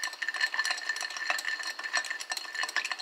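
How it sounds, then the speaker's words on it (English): An old fashioned whiskey cocktail is stirred in a glass, a close, soft, continuous clinking and swirling of ice and spoon with no talking. "Get a little stirring going on."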